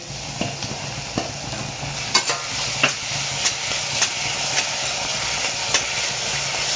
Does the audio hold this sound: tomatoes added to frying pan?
yes